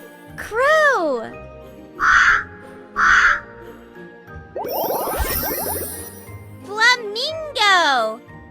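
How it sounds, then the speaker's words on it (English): A crow cawing in two loud, harsh, close calls, surrounded by a child's speech and tinkling jingle tones. "Crow."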